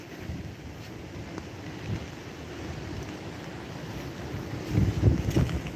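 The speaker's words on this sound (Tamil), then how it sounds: "கூடவே பிக்கிற அளவு காற்றடிக்குது" Strong wind buffets the microphone in a continuous rumbling roar, with gusts surging louder near the end.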